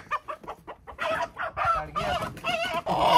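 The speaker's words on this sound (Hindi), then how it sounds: "ये देखें माशाल्लाह, सही हेल्दी मुर्गा है।" A village rooster squawks and clucks in agitated bursts, growing louder and more frantic, with rustling and scuffling as it is grabbed up close.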